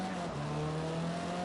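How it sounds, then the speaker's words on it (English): A race car in a PlayStation racing game braking hard in traffic near the final corners: a loud, steady engine drone with a sustained tire squeal, heard close and continuous for a brief moment. "he's going to just abort and slam the brakes."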